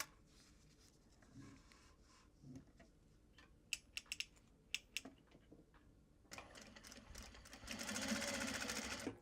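A sewing machine top stitches a Japanese fabric bag late at night, its short bursts of stitching opening into a steady, louder whir near the end, with no talk.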